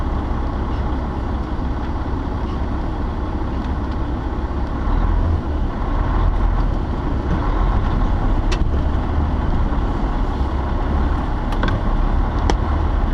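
A big truck rolls slowly into a truck wash, its engine a loud, steady, close diesel rumble that holds even throughout with only faint clicks on top and no talk.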